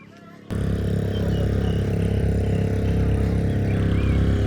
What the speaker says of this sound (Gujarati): જો જનરેટર કેમ છે